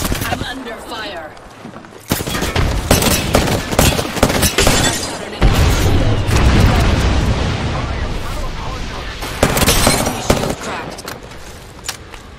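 Gunfire in the video game Apex Legends, dense rapid automatic bursts with blasts and loud crackling, running almost continuously while game voices and a player talk over it.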